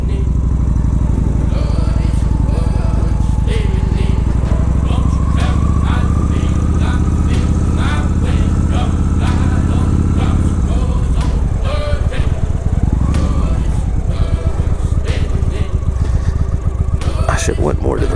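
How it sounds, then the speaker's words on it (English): A loud motorcycle rides along continuously, its engine droning and shifting pitch close by, with some clattering over the steady roar. "I won't disturb them because this bike's fairly loud"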